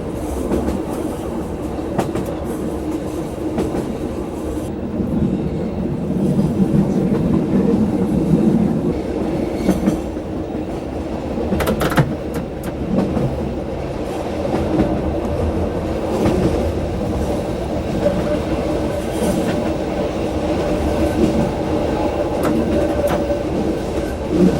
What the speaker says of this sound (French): Il n'y a plus de traction, ça descend, c'est Newton qui conduit